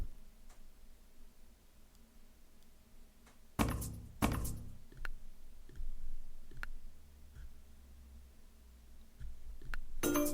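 Dice rolling in an online Catan video game, two sharp clattering bursts close together followed by soft scattered clicks and a later tap, quiet and up close.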